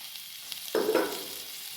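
Salted tender baby mangoes tipped into a pan for pickle and mixed: a quiet sizzle, then a short burst of stirring scrapes near the middle that fades back to a low hiss.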